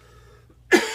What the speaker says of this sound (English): I've got a cough, and it's like one of those tickly coughs